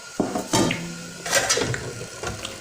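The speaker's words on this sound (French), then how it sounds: "Je recouvre ma marmite et je laisse mijoter." Metal cooking pot being covered with its lid while making a Congo-style wild broth with shrimp, several clanking knocks and scrapes of metal at close range, no talking.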